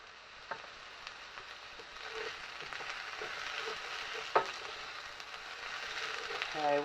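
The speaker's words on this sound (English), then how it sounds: "So we're going to let this fry off for about 10 minutes until it just starts to colour." Corn pieces frying in a pan give a soft, steady sizzle with faint crackles and an occasional clink, quiet and continuous.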